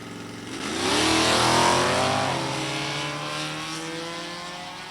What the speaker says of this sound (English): F-stock automatic, 1973 Dodge Dart 340.